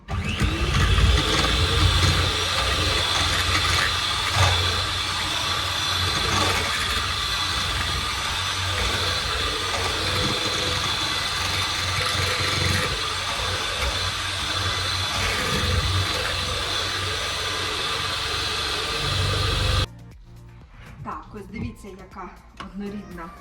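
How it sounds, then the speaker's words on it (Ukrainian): An electric mixer beats butter and egg mixture for a pumpkin, cinnamon and lemon cake, a loud, steady whirring drone that cuts off near the end, leaving quieter kitchen sounds and a voice. "зараз збиваю масло, додала і з'єдную масу яєчну і масляну"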